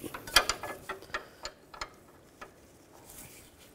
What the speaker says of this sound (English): go back to the 9/16 wrench. And snug this up.